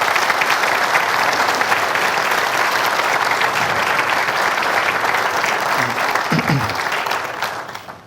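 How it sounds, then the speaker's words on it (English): Audience applause at a 2015 State of the City address: sustained, loud clapping from a large crowd that stays full and even, then tapers off in the final second. "Let's give them a round of applause"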